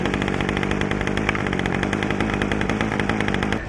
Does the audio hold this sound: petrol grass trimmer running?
yes